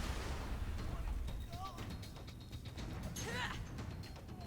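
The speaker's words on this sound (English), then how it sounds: "Get a rocket back there" A rocket fires in Borderlands 2, played as Maya, a booming launch and blast set among other game effects at moderate level, with a voice talking over it.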